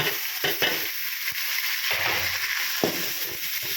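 Onions fry in a pan as chopped tomatoes go in, giving a steady sizzle with intermittent scraping stirs and soft clatter of a spoon against the pan, close and moderately loud.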